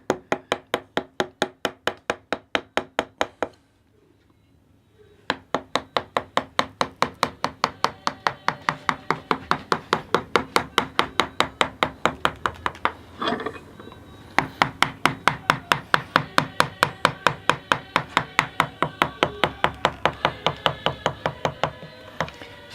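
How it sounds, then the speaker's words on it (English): A V chisel is driven rhythmically through wood, apparently MDF board, by a Maori carver in New Zealand, producing fast, regular tapping strokes in long runs broken by short pauses, close and loud. "So this is a V chisel that we're using here, and it's used for surface design work."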